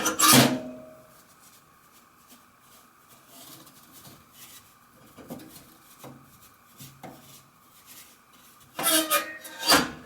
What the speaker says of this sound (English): when I pull on this release, it's going to open a door up in this pot to let all the ashes fall down into that little tray